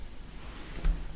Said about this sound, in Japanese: 窓の外から聞こえるセミの声がとても遠く感じる。